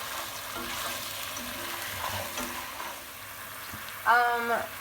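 White wine for a Greek meatball sauce (soutzoukakia) reduces in a pan with a steady, soft sizzle and bubbling throughout, then a brief louder clatter near the end.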